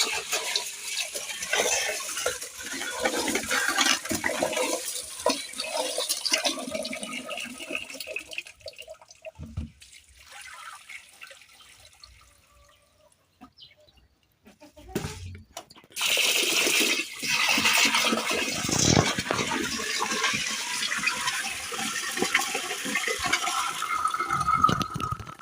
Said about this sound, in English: I have to continue rinsing until my water becomes very clear